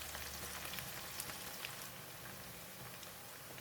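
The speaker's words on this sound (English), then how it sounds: "Sprinkle the anchovies on the hot oil." Tempura-coated anchovies fry in hot oil with a faint, even crackling hiss, a dense rain-like sizzle heard close but quiet and alone.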